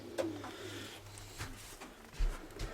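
Pigeons coo softly near their nest, low murmuring calls repeating at intervals against a quiet indoor background.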